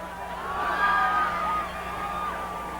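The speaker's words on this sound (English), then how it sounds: "Rowdy crowd on hand here tonight at Wayzata." A rowdy crowd at a 1990 high school football game at Wayzata cheers and shouts in a sustained, moderately loud roar that swells and then settles, heard from a distance in an outdoor stadium.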